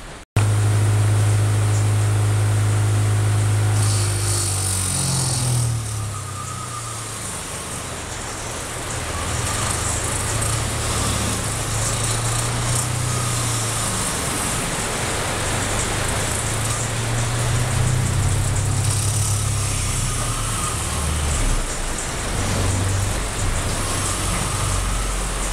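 A cheap $17 angle grinder, vise-mounted, grinds and wire-brushes metal: a motor hum spins up, then a loud, steady, harsh broadband grinding roar runs close and continuously with no talking.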